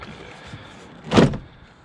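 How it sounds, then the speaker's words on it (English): A door panel on a Ford F150 pickup is lifted off the door, giving one short, loud clunk with a plastic rattle against quiet background. "You just lift up on the door panel and take it off."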